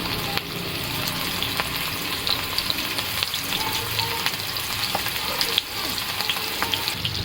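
Kebabs fry in ghee over a low flame, producing a continuous moderate sizzle with frequent small crackles and spits, close and steady throughout.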